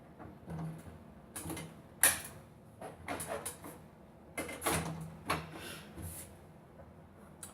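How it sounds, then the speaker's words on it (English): Wax being scraped off the tips and tails of classic cross-country skis, heard as scattered short creaky scrapes and scratchy strokes, close and fairly quiet, with pauses in between. "We're going to scrape the tips and tails and brush the tips and tails."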